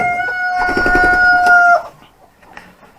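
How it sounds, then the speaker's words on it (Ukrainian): A rooster crows loudly and close by in a farmyard at eight in the evening, one long sustained call that ends abruptly, followed by quieter background sounds. "петушок наш, як завжди, співає 8 годин вечора"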